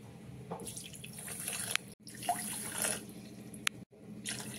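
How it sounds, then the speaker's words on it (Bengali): Water splashes into a measuring cup in two short pours separated by brief pauses, quiet and close, while making nolen gur rasgulla. "এই কাপে মেপে 3 কাপ জল আমি নিয়ে নিচ্ছি।"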